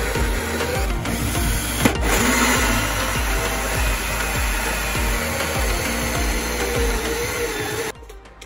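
A power drill runs continuously, boring holes in composite garden decking for lights, loud and near with a steady whirring, then cuts off near the end.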